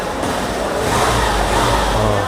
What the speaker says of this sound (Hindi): और इंजन भी मैं ऑन कर देता हूँ